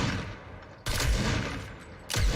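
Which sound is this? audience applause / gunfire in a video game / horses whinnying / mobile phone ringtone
gunfire in a video game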